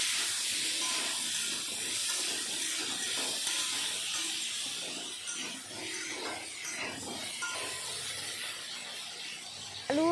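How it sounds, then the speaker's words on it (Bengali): Potatoes seasoned with salt and turmeric fry in hot oil in a kadai, the oil left from frying fish, giving a steady close sizzle and hiss with occasional crackles throughout, with no talk. "এই তেলের ভিতরে এখন আলু ভেজে নেব"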